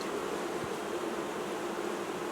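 Honeybees from an opened hive during swarm-control work hum in a steady, dense, continuous drone that stays close and even throughout, with no talk over it.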